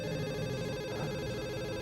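A telephone rings indoors, a steady electronic warble that continues without a break at moderate level against a faint room background.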